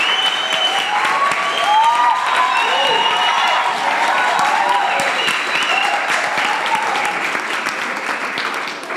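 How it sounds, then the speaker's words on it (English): An audience at a university public lecture applauds after a gift presentation to a performer and her accompanist, with loud continuous clapping, some cheering and scattered voices mixed in. "I think that round of applause says it all."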